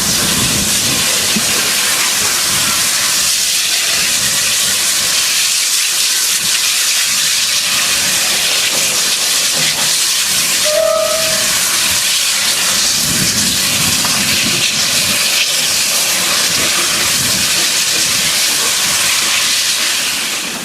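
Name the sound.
pair of Chinese QJ steam locomotives passing, steam whistle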